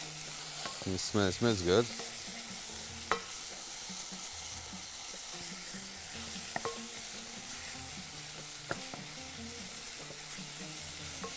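Food for Bahraini biryani frying in a pan while being stirred, with steady sizzling throughout and a few scraping stirs near the start, plus occasional clinks; a person speaks briefly.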